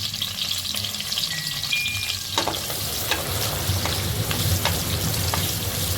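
Sliced onion roasts in about four spoons of oil in a pan for kaima sambar, a steady bright sizzle with occasional stirring clicks and crackles, close and continuous with no talking.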